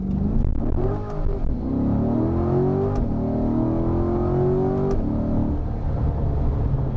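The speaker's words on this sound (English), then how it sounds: "So I'm going to do an acceleration here. We're going to go into Z mode just to show you guys." A 2022 Chevrolet C8 Corvette Z51 accelerates hard in Z mode with its exhaust valves open, a loud rising engine roar that climbs through the revs over several seconds, heard from inside without speech.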